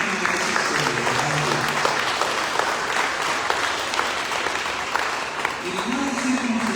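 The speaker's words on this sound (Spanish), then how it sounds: "Le demos un aplauso al Señor." A church congregation applauds steadily throughout, a thick continuous clapping with a few voices calling out and murmuring beneath it.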